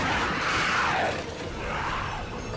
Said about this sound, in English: zombie growls and screams, which will be inspired by the sounds of Dawn of the Dead.